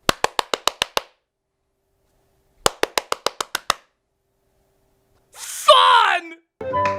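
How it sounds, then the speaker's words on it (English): Hands clap in two quick bursts of about seven sharp claps each, separated by a pause, to steer a robotic toy cat in a commercial, followed by brief voices and a short tonal noise. "His sister made it go right or left just by clapping her hands."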